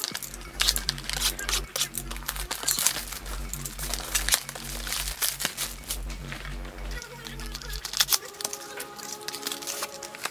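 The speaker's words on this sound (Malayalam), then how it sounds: "നമുക്ക് കവറൊക്കെ മാറ്റി വെച്ചേക്കാം." Packaging is pulled off the box of a Digitek DWM 101 wireless microphone during unboxing, with steady close crinkling, tearing and crackling of plastic and cardboard that eases off near the end.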